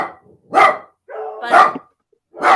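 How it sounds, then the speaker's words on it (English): Dogs barking close and loud in three sharp bursts, one drawn into a longer yelping bark, with short silent gaps between. "Can you hear the dogs barking?"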